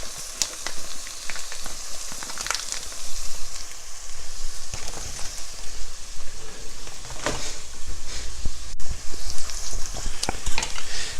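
Ground beef hits a pan of softened onions and sizzles steadily and loudly, broken by brisk stirring and scraping, with no voices.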